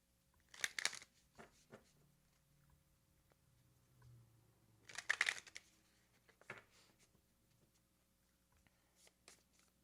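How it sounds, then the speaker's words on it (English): Deck of cards shuffled for a card reading, two short crisp riffle bursts separated by quieter handling and soft taps, close and fairly faint in a quiet room. "So I'm going to shuffle a couple more times."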